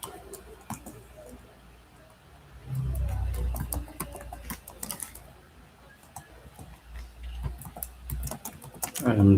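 Typing on a computer keyboard while writing code, a run of quick light clicks and taps at close range, with a few louder bursts of keystrokes, mostly alone with little talk.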